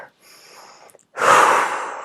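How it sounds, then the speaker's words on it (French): A deep breath drawn in as part of a relaxation breathing exercise: a faint airy inhale, a short pause, then a loud, close, rushing breath that swells and holds for nearly a second. "l'idée c'est justement d'utiliser la respiration pour pouvoir évacuer et décharger. Donc de faire des grandes inspires"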